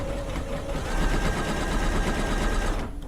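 Sewing machine stitching a quilt top at narrower zigzag width, a close, steady whirring hum with a fast mechanical chatter for about three seconds before it slows and stops.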